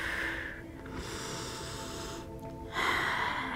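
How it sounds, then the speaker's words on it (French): Deep breathing during a yoga session for the nervous system, with long slow breaths drawn in and let out close to the mic, alone with no talking. "Et prenez quelques grandes respirations de plus."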